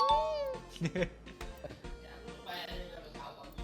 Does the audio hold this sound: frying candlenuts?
no